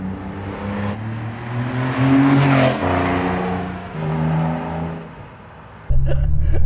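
A 1989 Porsche Carrera 4 964 track car pulls away, its engine droning loud and close with a rising note midway, then a brief dip before a sharper burst of engine noise at the end.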